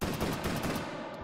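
Rapid gunfire from the VR shooter H3VR in Take and Hold mode, a dense burst of overlapping shots that stays loud and fairly even for just over a second with no talk.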